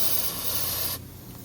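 A can of Red Stallion electronic cleaner sprays in one steady, close hiss that cuts off abruptly about a second in, leaving a quiet tail.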